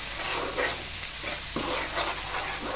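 Onion and spice mix with turmeric fries for chicken fry, making a loud, dense, continuous sizzle with occasional stirring scrapes close by.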